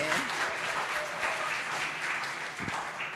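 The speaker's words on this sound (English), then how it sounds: "let's please give Mavis another round of applause" An audience applauds Mavis at the Old Mutual Indaba, a steady, dense wash of clapping throughout, with a few voices mixed in.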